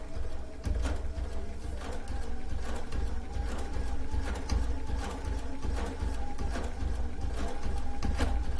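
A sewing machine stitches along a rag quilt in one unbroken run, a steady loud mechanical whir with fast rhythmic needle clatter and low motor rumble throughout.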